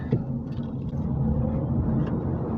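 Nissan Leaf Tekna electric car driving under regenerative braking, a low steady road rumble and tyre noise from inside the cabin, with a faint electric whine, continuous and moderately loud.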